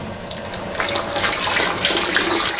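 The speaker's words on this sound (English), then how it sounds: "So we're gonna fill our bucket half with warm water." Warm tap water gushes steadily into a car wash detailing bucket, a continuous close rushing splash that builds slightly as the bucket fills, with no talking.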